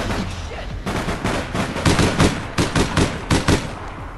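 Rapid gunfire from the online shooter game APB Reloaded comes in several close, loud bursts of automatic shots, separated by brief pauses.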